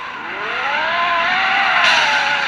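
A car in the video game Ultimate Car Driving revs steadily with a rising, sweeping engine tone and tire noise, loud and continuous throughout with no talking.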